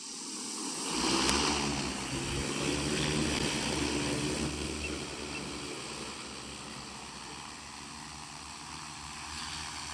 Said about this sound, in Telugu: సో ఇప్పుడు డ్రోన్ టేక్ ఆఫ్ చేద్దాం